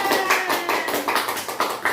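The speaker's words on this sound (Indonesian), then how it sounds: "beri tepuk tangan buat Mbak Fadlan." A class claps hands during a distance-learning microteaching lesson, giving quick, close, fairly loud bursts of slaps in an uneven rhythm with no talking over them.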